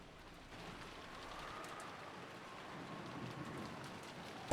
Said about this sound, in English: Back out in the rain.